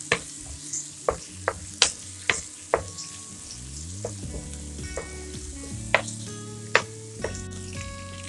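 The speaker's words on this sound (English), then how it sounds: "in this I'm going to add 3 to 4 split green chilies and some curry leaves. We need to fry these well." Split green chilies and curry leaves frying in oil for Hyderabadi chicken 65, a steady close sizzle with sharp spoon clinks and scrapes against the pan throughout, no voices.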